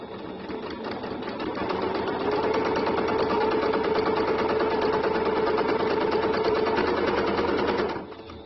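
A sewing machine runs steadily, stitching a dress seam in one long continuous pass. Its motor whirs and its needle chatters evenly at close range for several seconds, then winds down.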